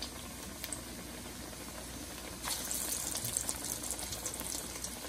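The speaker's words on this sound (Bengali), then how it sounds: "এই দেখেন আমার আপি এগুলো কত সুন্দর করে ভাজতেছে, এর জন্য এগুলো অনেক ক্রাঞ্চি হবে।" Onion fritters (peyaju) frying in oil, a soft continuous bubbling hiss that grows a little louder and brighter midway, fairly faint and heard alone.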